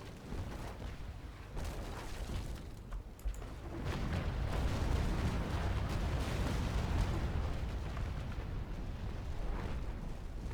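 Cannons fire from a sailing warship in the Naval Action game, heard as dense, continuous rumbling booms and blasts that stay loud throughout without a break.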